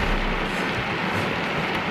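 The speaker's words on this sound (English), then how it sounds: "it is raining." Rain falling outside, a steady dense hiss of drops with a low rumble underneath, continuous and fairly loud throughout with no voices.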